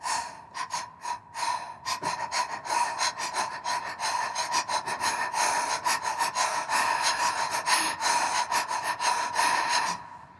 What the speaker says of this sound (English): So I'm just back to these breathing patterns because they're so beautiful.